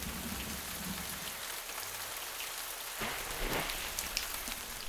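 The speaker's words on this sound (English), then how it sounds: "A raindrop crashes like a bomb on these insects" Rain patters steadily on a surface, drops hitting tiny insects no bigger than a speck of dust sheltering in silk webbing. It is a dense, continuous hiss with a few slightly louder drops, close, with no voices.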